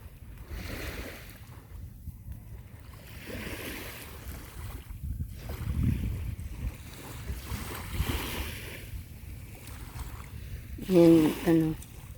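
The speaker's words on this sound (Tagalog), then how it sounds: "yung alon lang naririnig nyo" Seaside waves washing in and breaking nearby with gusty wind on a hot day, a person talking intermittently over the surf.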